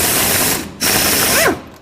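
A ratchet wrench turns a 10 millimeter bolt on a jet ski jet pump, two quick bursts of close, rapid clicking separated by a brief pause, with a squeaky metallic chirp near the end.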